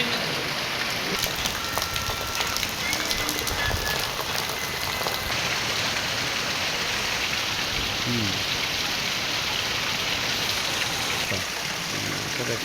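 Steady heavy rain falls outside a temple, a close, constant patter and splash on surfaces and pooled water that continues without pause.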